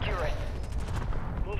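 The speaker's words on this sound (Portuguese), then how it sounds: "Tá dando tiro de todo lado." Heavy gunfire and booming shots in a Call of Duty: Modern Warfare II match, close and continuous, with someone speaking over the barrage.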